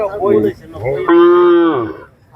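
A single cow moos loudly and close by at a cattle market, a low call rising into a long, sustained bellow before fading.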